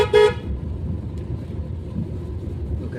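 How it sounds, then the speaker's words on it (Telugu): A car horn gives one short, loud toot during a driving lesson on narrow back-street roads, followed by the steady rumble of the car's engine inside the cabin. "రైట్ హార్న్ కొట్టండి"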